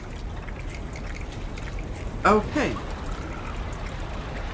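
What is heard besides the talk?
rising water in Limbo video game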